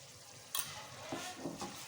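Potatoes with garam masala are stirred in a pot over a soft steady sizzle, a few faint scraping strokes rising above the quiet frying, close and without talk.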